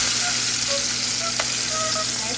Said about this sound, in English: Here's our chicken after we're done pan searing it.